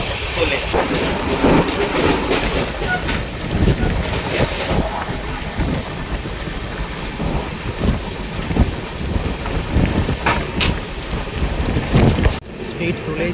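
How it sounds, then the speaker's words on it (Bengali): The Sahid Express runs at speed, its loud rumble and rhythmic wheel clatter filling the whole stretch alongside buffeting wind, with a sharp jolt near the end. "ট্রেন এখন দৌড়বে আমাদের ননস্টপ 15 কিলোমিটার"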